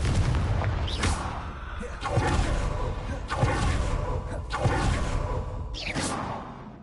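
In Hogwarts Legacy combat, Confringo fire spells land as a series of whooshing blasts and booming bursts, several in succession over continuous game noise.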